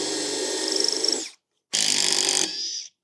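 A power driver unscrews the screws holding the top of a homemade cold plunge tub, two close whirring runs of about a second each separated by a short silence.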